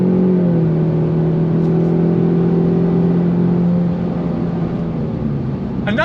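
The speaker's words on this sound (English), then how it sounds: "On throttle. Fast shift from that 10 speed." A 2024 Ford Mustang EcoBoost with a 10-speed automatic accelerates hard, its engine note climbing steadily before a quick upshift drops the pitch, loud and close with a steady droning roar throughout.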